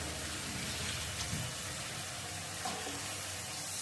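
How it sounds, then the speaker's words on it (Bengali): Water goes into a frying curry to make the gravy, producing a dense, even hiss and bubbling sizzle that sounds almost like rain, close and steady with no voices. "এবার ঝোলের জন্য জলটা দিয়ে দিব"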